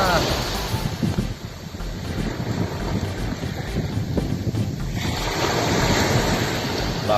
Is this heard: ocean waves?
yes